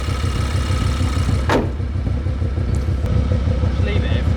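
An Audi RS6 engine with a flashing engine warning light runs on a dyno, giving a steady, loud, pulsing idle throb with a brief whoosh midway and faint high chirps near the end.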